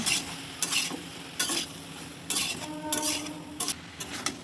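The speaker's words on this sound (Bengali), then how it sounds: "এইবার সবগুলো উপকরণ খুব ভালো করে মিশিয়ে নিচ্ছি" Vegetables with Kashmiri chili powder and chopped tomato are stirred in a hot pan for jhinge posto, scraping and clinking strokes over a soft sizzle, close and clear, with no voices.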